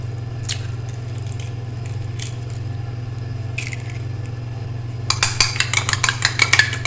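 An egg being beaten into shami kabab mixture in a bowl, heard as a quick burst of rapid, clattering utensil strikes near the end over a steady low hum, with a few scattered taps before it.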